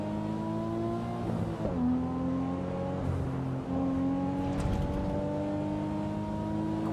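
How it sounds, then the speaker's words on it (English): A race car in the Assetto Corsa Evo racing game starts and revs, its engine rising and falling in steady harmonic sweeps with a brief lurch midway, loud and continuous with no talk. "I like hearing my car start."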